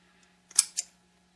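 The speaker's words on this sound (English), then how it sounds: "Now you're going to cut the material into 4 equal pieces." Scissors snip fly-tying material into pieces, giving two quick, close, crisp cuts in a row against a quiet background.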